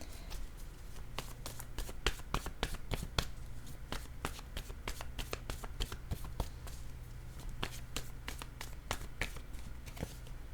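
Tarot cards are shuffled and laid down close by: a quick run of crisp snapping flicks and soft slaps, fairly quiet and even-paced, continuing for about ten seconds with no talking.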